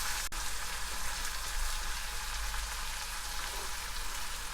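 Onion and tomato with a pinch of salt sauté in a pan, giving a soft, even sizzle close by throughout, with one sharp tap near the start and no speech.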